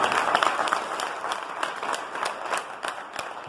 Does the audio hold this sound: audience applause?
yes